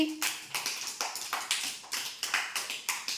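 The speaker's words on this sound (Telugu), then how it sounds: "క్లాప్స్ కొట్టండి నితీష్కి" A group of children at an anganwadi classroom clap for a classmate, a quick burst of uneven, overlapping hand claps that starts loud and close, then settles into a steady patter of roughly rhythmic claps lasting a few seconds.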